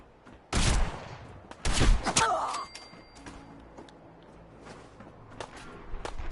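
Enemies fire guns in Fallout 4, two loud close shots or short volleys followed by quieter movement and faint game sounds.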